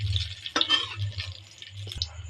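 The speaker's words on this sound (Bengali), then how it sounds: "একটু নেড়ে দেবো।" Black cumin, bay leaf and dried chilli tempered in mustard oil in a wok get stirred, soft scraping strokes and faint sizzle over a low hum, with a couple of sharper clicks.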